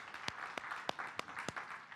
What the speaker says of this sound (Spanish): así que un fuerte aplauso para él.